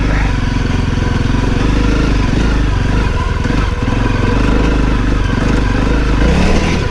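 A Honda CRF250L motorcycle rides off-road on a trail, its engine droning loud and steady with rough rumbling and clattering from the terrain, close throughout.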